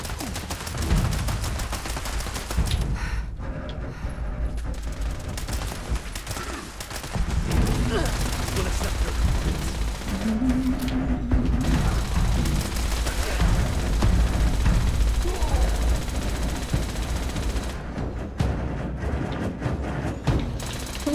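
Rapid gunfire in Fallout 76, dense bursts of shots with mechanical clacks running almost continuously, with brief lulls and a voice speaking now and then.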